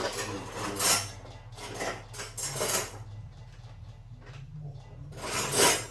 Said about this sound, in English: Let me get my little pan.